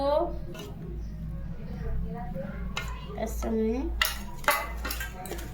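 Paneer being mixed with red chili sauce in a dish: soft clinks of a utensil against the bowl and wet squishing under a voice, with a low steady hum behind.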